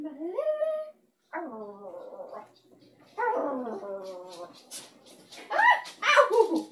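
Pet dogs at a grandmother's house whine, yip and bark in short bursts, close by, mixed with people talking over them.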